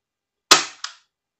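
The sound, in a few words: Tokyo Marui USP spring airsoft pistol firing a shot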